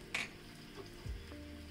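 Onions dropped into hot oil with fried garlic for a chicken khada masala, a quiet sizzle with a brief clatter and soft stirring, faint and close, no talking.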